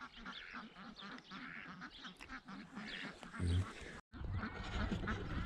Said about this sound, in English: about there the ducks are running off to the dam